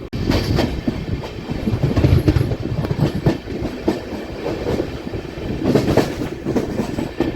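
The Ratnachal Express, with new LHB coaches, rolls steadily along the rails after leaving Eluru, a continuous rumbling roar with rhythmic clacking of wheels, loud and close, with no voices.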